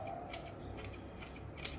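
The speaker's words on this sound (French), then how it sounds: "je prends les ciseaux comme ça et je fais ça" Scissors snip through the ends of hair during a layered thinning cut, giving a soft, close, steady crisp texture with faint ticks and no talk.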